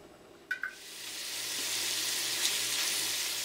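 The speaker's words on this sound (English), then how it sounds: "I'm gonna fry the bacon first" Bacon frying in a little oil in a well-seasoned frying pan, starting with a couple of sharp clinks, then building into a steady, hissing sizzle that swells and holds at moderate volume.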